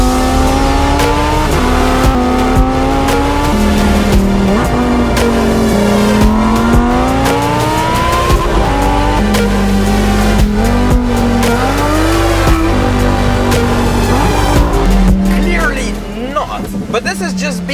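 A 2020 Lamborghini Huracan EVO RWD supercar driven in Corsa mode, its engine roaring loudly and continuously as revs climb and fall through gear changes, with sharp upshift cracks, heard from inside the car over a constant rumble.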